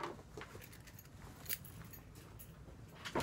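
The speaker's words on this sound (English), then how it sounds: "My keys." Keys jangling briefly in a hand, light metallic clinks and rattles close by, quiet and without talk.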